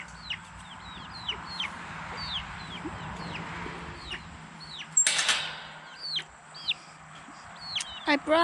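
Hens clucking outdoors in a backyard, soft repeated calls near and far with a burst of wing flapping midway and a louder squawk near the end.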